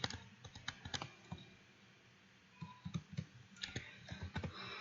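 Rapid keystrokes on a computer keyboard while entering data for a linked list program, a steady close clatter of clicks with a brief lull in the middle.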